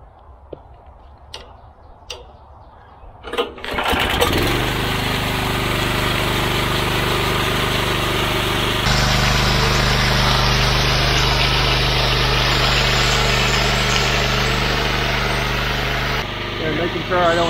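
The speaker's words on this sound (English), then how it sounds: "One thing I like to do before I start the power trowel is just, I call it break the blades from the surface." A few clicks and a pull on the starter, then a concrete power trowel's small engine catches and roars into a loud, steady idle that rises in pitch partway through, running close and constant to the end.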